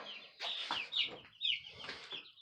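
A new flock of chickens clucking close by in a coop, a quick run of soft, chattering calls in irregular bursts with short pauses, fairly faint and without talk.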